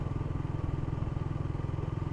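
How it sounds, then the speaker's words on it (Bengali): A Suzuki GSX-R 150 motorcycle cruising smoothly in fourth gear, its small engine giving a steady, even, rapidly pulsing drone throughout with no knocking, close and continuous. "বাইকে কোনো নকিং নেই, বাইক স্মুথলি চলতেছে"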